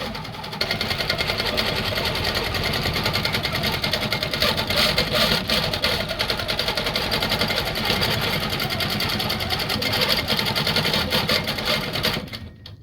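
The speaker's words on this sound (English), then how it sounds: "I'm gonna let this stitch out for you guys so you can see the rows nested to each other" A sewing machine stitches rows of quilting in a fast, even mechanical whir, loud and close, running continuously for about twelve seconds before stopping.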